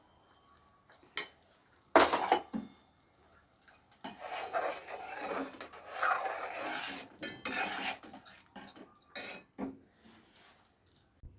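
Fried boondi being stirred into light sugar syrup in a pot, metal spoon clinks and scrapes against the vessel, sporadic bursts then a busier stretch of mixing, close and fairly quiet with no voices.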